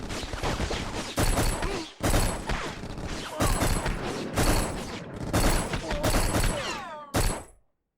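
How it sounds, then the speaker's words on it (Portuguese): Rapid bursts of gunfire in the shooter video game Black, volleys crackling over several seconds with brief pauses between them, loud and close, ending abruptly. "tem um cara atirando aqui em mim, velho"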